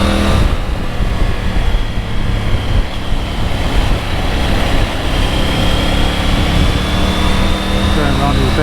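Triumph Tiger 900 triple-cylinder motorcycle on the move, a steady close engine drone with a rising whine, heavy wind rush buffeting throughout as the bike is ridden through bends on fresh Michelin Road 6 tyres.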